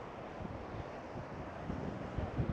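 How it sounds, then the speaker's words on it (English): Heavy wind buffets the microphone with constant low rumbling and gusty bursts, no voices, just a roaring blustery wash throughout. "it's blowing a gale here"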